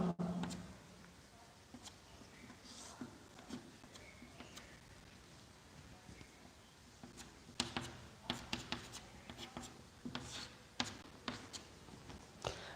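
A number line is drawn by hand for a maths lesson, with faint pen or marker strokes scratching across the surface in short bursts and quiet taps, growing busier toward the end.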